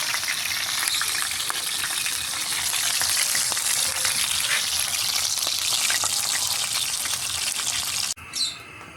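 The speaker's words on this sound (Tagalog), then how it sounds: "Ayan, magprito na tayong bangos dagopan dambuhala." A giant bangus milkfish from Dagupan fries in hot oil with a loud, steady, dense sizzle that runs nearly the whole time, then cuts off abruptly near the end, followed by a brief faint chirp.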